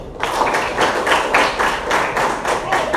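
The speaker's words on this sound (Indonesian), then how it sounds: "Oke, tepuk tangan untuk Rezi" A classroom group claps in a steady rhythmic pattern, about a dozen bursts of hand claps at a regular beat, close and fairly loud with little speech.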